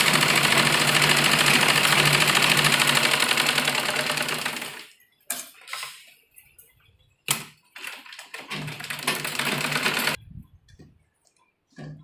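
A sewing machine stitches the seams of a large-size palazzo pant, running loud and steady for about five seconds, then in short bursts with quiet gaps between them.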